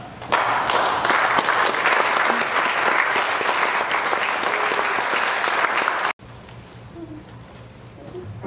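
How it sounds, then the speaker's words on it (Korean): An audience at a Korean church concert applauds loudly and continuously for about six seconds before the sound cuts abruptly to a quieter room tone. "다시 한번 박수로 환영해 주시기 바랍니다"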